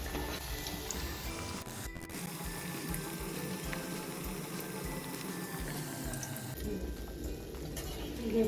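Colocasia leaf rolls (aluvadi) shallow-frying in oil over medium gas, a steady bubbling sizzle with soft crackle running throughout, moderately faint and continuous, no talking.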